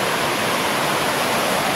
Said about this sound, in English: So this is my first encounter with a flash flood